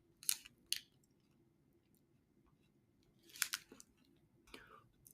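Someone bites into and chews a brownie crunch protein bar close to the mic, with a few crisp crunches spaced across several seconds over quiet background.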